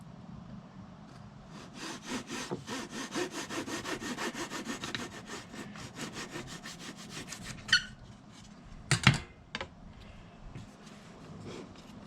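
A hand saw cuts a small wooden wedge for a fuselage mold, back-and-forth strokes rasping steadily and close, followed by a few sharp knocks and light handling noises.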